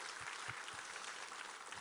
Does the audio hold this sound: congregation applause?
yes